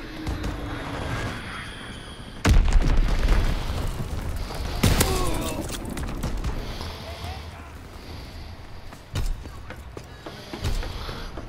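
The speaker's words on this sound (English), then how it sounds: "Fritz X bomb mission underway" Bomb explosions from a Fritz X strike in a war video game: several deep booms and sharp bursts thump over steady battle noise and game voice callouts.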